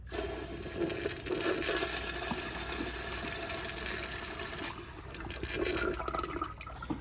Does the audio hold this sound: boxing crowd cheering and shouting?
no